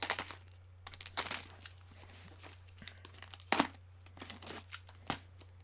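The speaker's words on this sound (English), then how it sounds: "So I'm going to cut the tape." Packing tape on a parcel being cut and pulled, giving close, dry crinkling and tearing scrapes in short irregular bursts over a steady low hum.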